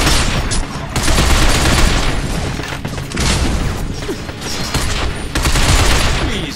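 Gunfire in the Binary Domain video game: loud, close bursts of automatic rifle fire crackle in repeated volleys with brief pauses between them, booming and dense throughout.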